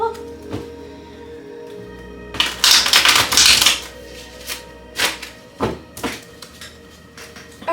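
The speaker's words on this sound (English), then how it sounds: "Okay, one more shuffle." Tarot cards being shuffled during a full moon reading, a soft papery riffle that swells into a dense, brighter burst of flicking cards for about a second, then breaks into a few scattered taps and slaps.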